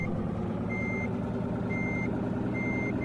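In Truck Simulator Ultimate, a truck backs up with its reversing alarm sounding: evenly spaced high electronic beeps over a steady, loud engine rumble.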